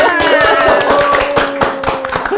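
Studio audience clapping hands during an Indonesian talk show, a steady patter of claps with music or tones running underneath, lasting only a couple of seconds.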